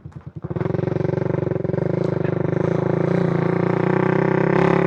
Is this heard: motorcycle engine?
yes